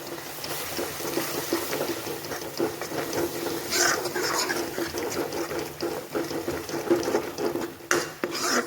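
A spoon stirs turmeric, garam masala and coriander powder in a pan with oil for a soybean kebab gravy, giving soft scraping and clinking at close range, with a louder knock near the end.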